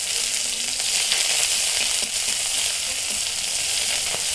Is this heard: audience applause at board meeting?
no